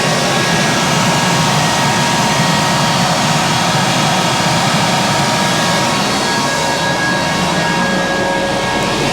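Cooling fans blow air through an oil radiator with a loud, steady roaring rush and a faint tonal hum underneath, unbroken throughout.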